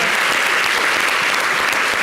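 A television studio audience claps in a dense, loud, continuous burst of applause that holds evenly throughout, with no break or trailing off.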